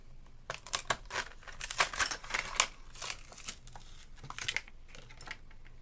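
Plastic packaging of inexpensive Dollar Tree fountain pens being torn and opened, busy close crinkling and tearing bursts in quick irregular succession, fairly loud, no speech.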